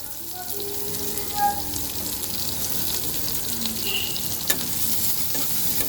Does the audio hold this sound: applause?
no